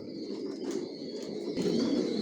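Young racing pigeons in a loft, giving soft, low cooing calls with a few chirps and a brief flutter nearby, continuous and moderately close.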